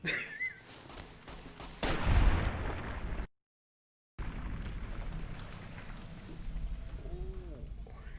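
Gunfire in Fallout New Vegas, a loud burst of shots and a heavy blast with a rumbling tail, cut by a short silence before noisy combat resumes with muffled bangs.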